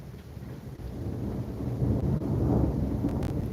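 Deep rolling thunder rumbles steadily through a rainstorm in South Africa, a low continuous roar swelling slightly midway, with no voices.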